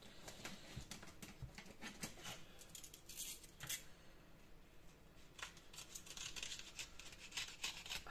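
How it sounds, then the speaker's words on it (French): Scissors cutting paper for a winter shaker album paper craft, a quiet series of short crisp snips and rustles at close range with faint shuffling of paper between cuts. "j'ai une paire de ciseaux"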